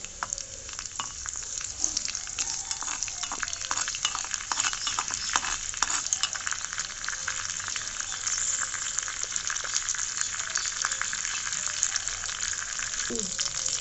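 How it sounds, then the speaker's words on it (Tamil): Mustard seeds, fenugreek and curry leaves splutter and crackle in hot oil in a small pot, a dense steady sizzle with scattered sharp pops throughout, close and continuous with no talking. "இப்போ நம்ம கடுகு, வெந்தயம், கருவேப்பிலை போட்டுக்கலாம். நல்லா பொரியட்டும்."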